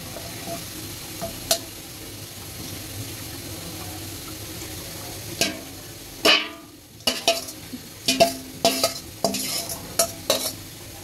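Tengra fish added to a thin simmering curry broth in a pan, a soft steady sizzle under a cluster of sharp stirring clatters and utensil knocks in the second half, close by.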